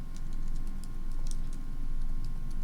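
Light tapping on a computer keyboard, a quick irregular string of key clicks over a steady faint hum, with no voices.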